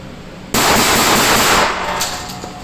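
The Aska S4 rifle fires in a video game, a loud rapid burst that starts abruptly, runs for about a second and a half, then fades out.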